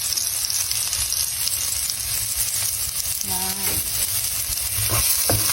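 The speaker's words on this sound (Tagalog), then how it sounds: "Naglagay na tayo ng mantika sa kawali at bawang." Garlic sizzles in hot oil in a pan for pasta, a steady close frying crackle throughout, with a brief spoken word partway through.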